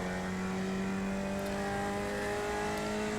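Race car engine held at full throttle down a straightaway in the iRacing sim, a steady, loud sustained drone with strong harmonic whine and no change in pitch, no voices.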